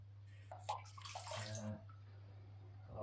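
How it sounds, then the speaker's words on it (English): An aquarium filter sponge from a betta tank is rubbed and rinsed in tank water, giving soft splashing and sloshing bursts over a steady low hum. "I always give it a little bit of a rub through in the water."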